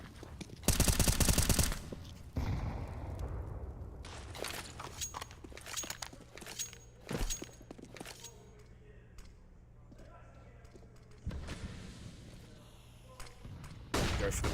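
Gunfire during a professional Counter-Strike match at a BLAST.tv Major Europe RMR event, with several loud bursts of rapid shots and single cracks scattered through the round, plus footsteps and other game noise, under a caster's commentary.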